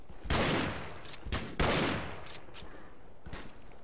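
Gunfire from a scoped Henry lever-action rifle in the Western shooter game Fistful of Frags: a few loud, sharp shots spaced irregularly, each with a short decaying tail, and no talking.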